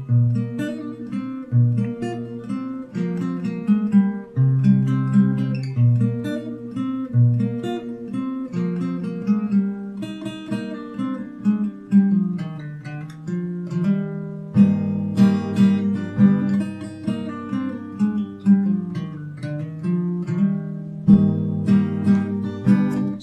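Fingerstyle acoustic guitar plays the bridge of a song alone for over twenty seconds, with plucked melody notes over a low bass line in an even, flowing rhythm, close and clear.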